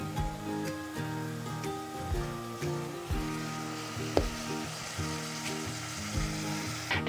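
Food frying in olive oil in a pan with black truffle Parmesan seasoning, a steady loud sizzle and crackle lasting throughout with occasional stirring clatter, no talking.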